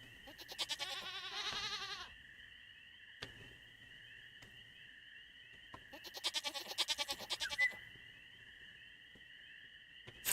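Void goats in the Stardew Valley video game bleat in two wavering bursts, loud and close, over a steady electronic game tone with soft music between.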